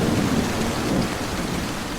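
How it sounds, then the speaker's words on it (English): Heavy rain during a thunderstorm, with a dense steady downpour and a low rolling rumble of thunder underneath, loud and continuous throughout. "we have noise from thunder,"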